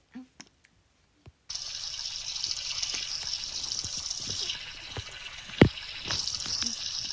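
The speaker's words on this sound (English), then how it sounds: "Why did I turn on the shower if you're not gonna go shower?" A newly installed shower runs steadily indoors, a continuous hiss of spraying water after a brief quiet start, with a few short knocks and soft speech-like sounds breaking in now and then.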